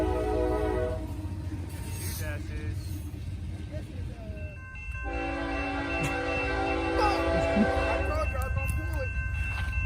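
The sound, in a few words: CSX freight train led by Dash 8 locomotives, horn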